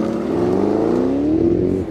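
A 2010 Noble M600 sports car, turbocharged by Motorcraft to about 650 horsepower, accelerates hard, its engine note climbing steadily in pitch as a loud, close, sustained roar.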